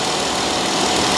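A Jeep Wrangler engine idles as it warms up during a thermostat replacement, with a steady close rumble and no speech.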